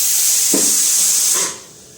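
A pressure cooker lets out a loud, steady hiss of steam in a home kitchen, which holds for over a second and then quickly dies away to quiet.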